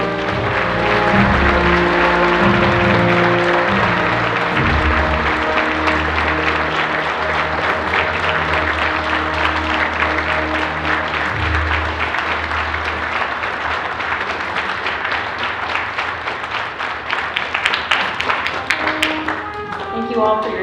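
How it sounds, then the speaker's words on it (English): Audience applause at a high school Veterans Day observance, a loud sustained burst of many hands clapping that slowly thins out, over steady background tones and some talk. "one more time so we can give you a round of applause."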